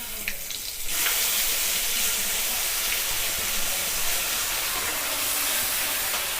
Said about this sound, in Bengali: এই ফোড়নের মধ্যে আমরা এই মশলাটা দিয়ে দিচ্ছি।